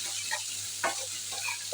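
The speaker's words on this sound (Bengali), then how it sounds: "ভেজে নিব পেঁয়াজগুলি।" Chopped onions with a pinch of salt sizzle in a hot pan for fish bhuna, a steady close frying hiss broken by a few short scraping stirs.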